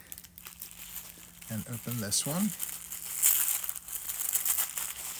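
Tissue paper crinkles and rustles loudly close by as yarn is unwrapped from it, alongside a short spoken phrase.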